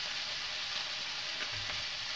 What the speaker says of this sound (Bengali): আমার তেলটা গরম হয়ে গেছে, আমি এখন চুনা মাছকে এখানে ছাড়িয়ে ভাজে নেব।